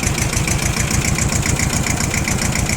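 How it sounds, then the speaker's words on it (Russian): A Japanese mini tractor's two-cylinder engine idles with an even, rapid thumping pulse that stays loud, close and steady throughout, with no voices. "слышно, что двигатель работает как двухцилиндровый, но при этом максимально ровно"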